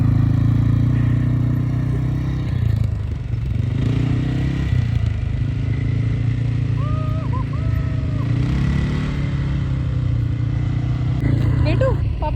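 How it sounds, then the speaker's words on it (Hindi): An ATV quad bike rides past on a Dubai desert outing, its engine rumbling low and steady throughout beneath frequent talking. "आकाश ATV बाइक चला रहे हैं।"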